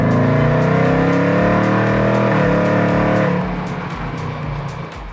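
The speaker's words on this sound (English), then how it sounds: "Part of that experience is the ICE, the internal combustion engine." A 1966 Ford Mustang GT V8 rumbles loudly and steadily up close, with a deep throbbing idle and revving tones that ease off toward the end, no voices.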